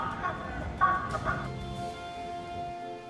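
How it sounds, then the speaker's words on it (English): An animatronic singing chicken at a county-fair themed area of an amusement park gives off a mechanical warbling, clucking tune with a brief louder burst near the start, set against steady background park noise. "the best theming element in the park, Larry the Singing Chicken"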